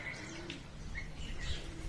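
Birds chirp and coo in the grounds of a Hanuman temple, with soft, scattered calls over a steady outdoor murmur, moderately distant and continuous throughout.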